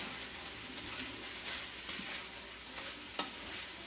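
Cauliflower rice being stirred and fried in a pan: a constant soft sizzle with repeated scraping strokes and an occasional sharper click of the spoon against the pan, with no talking.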